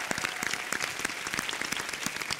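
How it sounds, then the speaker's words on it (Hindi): Audience applause at a Hindi poetry competition show, a dense, steady burst of clapping from a crowd lasting a couple of seconds with no talk over it. "जोरदार तालियां"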